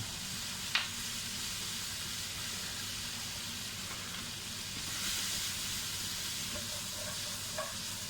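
Pieces of squash sizzle steadily in bacon fat in a hot pan for a quiche filling, a continuous close frying hiss with occasional stirring scrapes and small pops.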